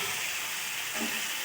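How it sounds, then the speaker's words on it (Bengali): Spice paste cooks in oil in a pan for a potato and cauliflower curry, giving a soft, continuous hiss of frying that stays faint and even, with no talking. "এবার মশলাটা ভালোভাবে ভাজা হয়ে গেছে"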